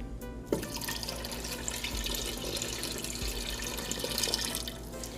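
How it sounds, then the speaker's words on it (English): Half a liter of freshly boiled water from a kettle pours steadily into a Ninja Foodi pot, a continuous close splashing gush with small bubbling and trickling details throughout. "To this I'm going to add half a liter of boiled water I just boiled in the kettle."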